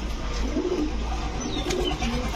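Large pigeons coo softly in a loft, low burbling calls repeating a few times over a constant background hum, no voices.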